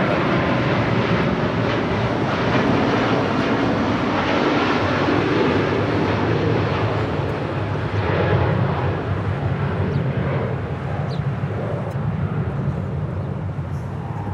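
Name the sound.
airplane departing Los Angeles International Airport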